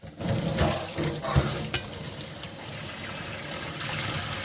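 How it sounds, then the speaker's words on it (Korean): Food is rinsed in water in a kitchen while making a clear tofu stew, with close splashing and swishing, a few louder sloshes early, then a steady running-water wash. "넣어서 헹굽니다."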